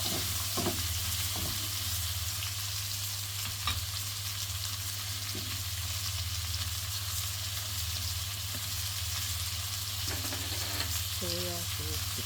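Fried rice with chili and salt fries steadily in a pan, a continuous close sizzle with a low hum beneath and a few scrapes of a spoon against the pan, no voices.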